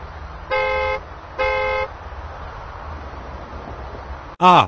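Two steady car horn honks, each about half a second, sound out over road noise, followed by a short loud burst at the end.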